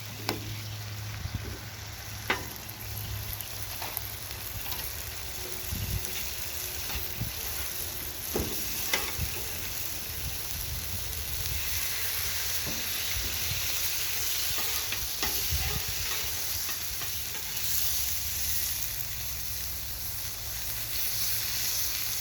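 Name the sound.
burger sizzling on a griddle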